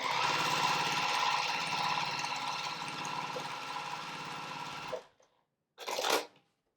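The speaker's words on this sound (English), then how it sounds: "I'm going to sew this one along the side here." A sewing machine stitches quilt scraps in a continuous rapid mechanical buzz for about five seconds, stops, then gives one short burst, close and alone.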